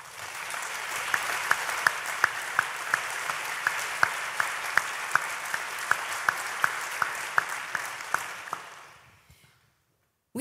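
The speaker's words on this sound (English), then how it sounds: "give ourselves a round of applause for this great setting we're in today" Conference attendees at an academic roundtable opening give a steady round of applause, with a few sharp, louder claps standing out from the crowd before it dies away into near silence.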